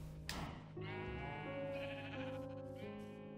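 Sheep in a Minecraft farm pen bleating, a long quavering bleat after a short thump, then more overlapping bleats, close and clear with no talking.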